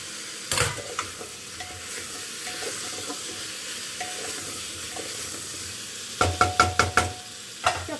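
Eggs sautéing with ground coriander, cumin and spice paste in a pot, with a steady low sizzle and occasional sharp spoon scrapes, then a burst of quick stirring knocks near the end; no talking.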